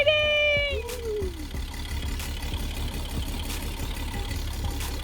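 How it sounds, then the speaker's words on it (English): A turbocharged engine running about 5 pounds of boost cranks and fires: a whining, falling tone sweeps down over the first second, then the engine settles into a steady, fairly loud idle rumble. "Was that a turbo noise? That's a turbo noise."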